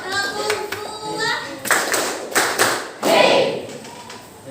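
Children clap hands in a rhythmic classroom game, giving two sharp claps and then a short group shout, repeated while a teacher speaks over the claps.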